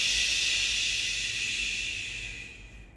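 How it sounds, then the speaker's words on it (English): A long, steady hissing exhale voices the wood sound of a five elements breathing exercise, held close to the microphone for about three seconds before fading out. "this is going to be our wood sound. So we breathe out with the sound."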